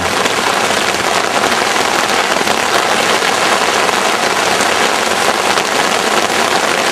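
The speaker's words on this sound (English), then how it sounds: "suddenly appears rain and hailstones and more rain" Heavy rain mixed with hailstones pours down at an outdoor pool, a loud, steady, dense hiss of drops and pelting ice hitting surfaces with no break for the whole stretch.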